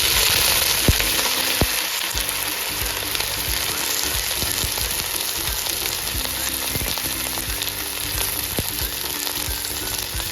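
Curry leaves, with dried red chillies and ginger, crackle and sizzle steadily in hot oil for a Kerala-style coconut fish curry with raw mango, a dense continuous frying hiss with sharp pops throughout.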